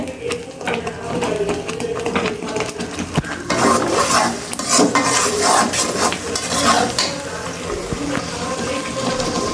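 Ginger, garlic and onion being sautéed in a pan, a loud, continuous sizzle with busy scraping and stirring throughout, swelling noticeably partway in, heard up close with no talking.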